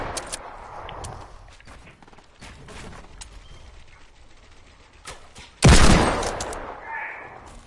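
Video game gunfire: scattered crackling shots across a noisy battle, building to one loud, close blast near the end followed by a fading ring.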